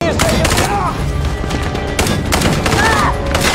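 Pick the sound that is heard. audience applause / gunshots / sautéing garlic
gunshots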